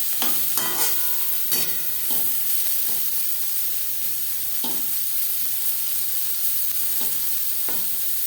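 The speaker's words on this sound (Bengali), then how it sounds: "লবণ হলুদ উচ্ছের সাথে বেশ ভালো করে মিক্স করে দেবো" Bitter gourd sizzles steadily in a pan while being stirred with turmeric and salt, with a few sharp scraping clatters of the spoon against the pan at irregular intervals.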